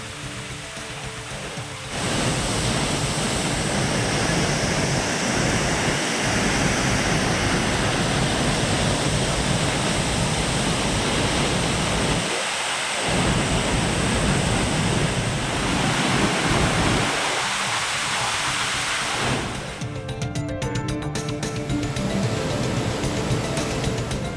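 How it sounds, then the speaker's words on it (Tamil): A waterfall in Tamil Nadu, split into five streams and flowing a little less after heavy rain, sends up a loud, steady roar of rushing water that starts after a brief moment and holds unbroken with no voices. "நீர்வரத்து சற்று குறைந்து 5 அருவிகளாக வெள்ளியை உருக்கிவிட்டது போல காட்சியளித்தது"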